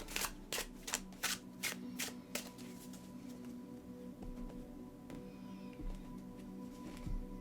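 Tarot cards riffle-shuffled in a rapid series of crisp flutters, followed by quieter card handling and faint sliding over a low steady hum.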